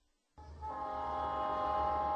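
A train horn blares steadily after a short silence, loud and sustained with rumbling rail noise underneath, no voices.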